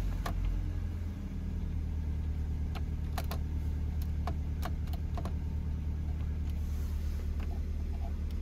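A Hyundai Matrix GSi engine idles and revs steadily at close range, a low even rumble with a few faint clicks on top and no talk.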